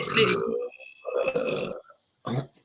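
A man belches loudly in a long, rasping burp, followed by a second shorter burp after a pause, close up.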